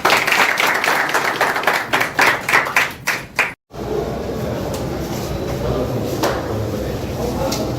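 A crowd at a Congress party gathering in Junagadh claps in quick rhythmic bursts for several seconds, then the clapping breaks off into a steady murmur of crowd noise and voices.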